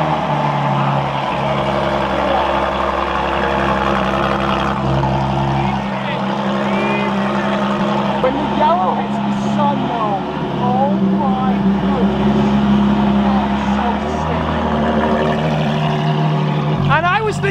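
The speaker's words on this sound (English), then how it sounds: "he tells me that this is a straight pipe LaFerrari" A straight-piped Ferrari LaFerrari engine roars loudly and continuously up close, surging and holding through revs. Voices and crowd noise are heard beneath it.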